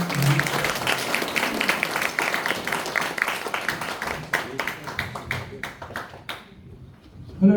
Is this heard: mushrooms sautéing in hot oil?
no